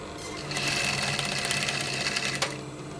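A sewing machine stitches corset fabric with a fast, steady mechanical whir that starts after a brief moment, runs continuously at close range, and slows near the end.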